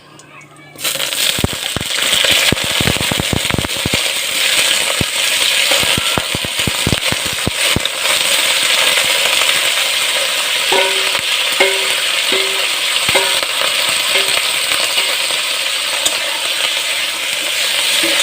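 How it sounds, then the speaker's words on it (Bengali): Meat drops into a pan and fries, starting with a burst of sharp crackles and pops, then settling into a steady loud sizzle while a voice speaks briefly. "এবার এই যে আমি মাংসটা দিয়ে দেব"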